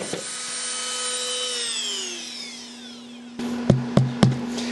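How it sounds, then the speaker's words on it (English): A Dremel rotary tool whines steadily at high pitch, its tone sliding downward as it bogs while cutting a 3D printed plastic hatchet, then a few sharp grinding bursts close up. "I'm just going to use a Dremel here."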